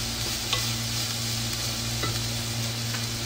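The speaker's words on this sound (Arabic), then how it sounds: "هقلبها شوية" Freekeh and vegetables stirred in a frying pan, a steady sizzle running throughout with soft scraping strokes of the spoon at intervals, close and fairly loud with no talking.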